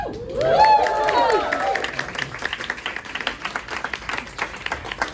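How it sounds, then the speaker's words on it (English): A rowdy audience at the Grease immersive musical launch event cheers with a loud whooping voice, then breaks into steady applause that gradually thins and softens into scattered claps. "if you could get another rowdy round of applause"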